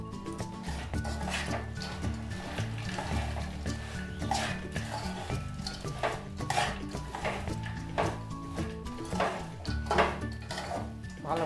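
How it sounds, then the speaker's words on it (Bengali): A spoon stirs a flattened rice and nut laddu mixture in a pan, giving soft, steady scraping and clinking against the metal at low volume throughout. "ভালোভাবে মিশিয়ে এভাবে নাড়াতে হবে।"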